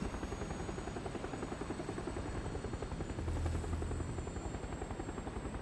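Motor glider engine droning in flight in the video game PUBG, a steady loud buzzing hum with a rapid pulsing rhythm throughout, with no voices over it.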